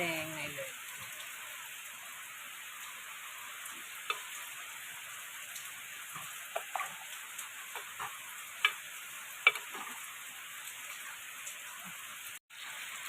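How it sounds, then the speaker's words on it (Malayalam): Roasted ground masala paste goes into a jackfruit-seed curry and is stirred, a thin steady hiss with scattered spoon clicks and taps while light rain falls outside. "നമ്മളെ വറുത്തരച്ചത് ഇതിലേക്ക് ഒഴിച്ചു കൊടുക്കുക"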